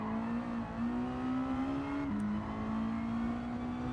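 Race car engine in Gran Turismo 7 held at high revs, a loud steady drone with one quick gear-shift dip midway, heard alone without talk.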